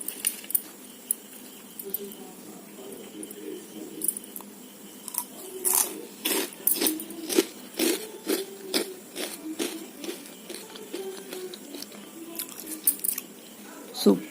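Crunchy, spicy basmati rice crisps are bitten and chewed in a rapid series of sharp, close crunches and crackles, with soft rustling between bites.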